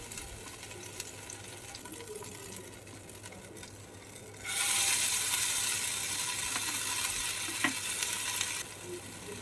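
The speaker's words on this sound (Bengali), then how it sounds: "দেখো, অয়েলটা গরম হয়ে গেছে। এবার আমি বড়াগুলো একে একে করে নেব।" Pumpkin seed fritters (bora) drop into hot oil and fry, a steady hissing sizzle that jumps sharply louder midway as the batter goes in, then holds for several seconds before easing back.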